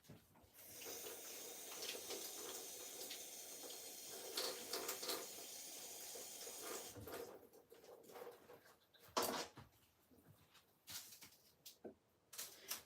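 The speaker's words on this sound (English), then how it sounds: "then I'm going to wash my spring onions" Tap water runs steadily into a kitchen sink while spring onions are washed, a soft splashing stream for several seconds that then stops, followed by faint clatters and handling sounds.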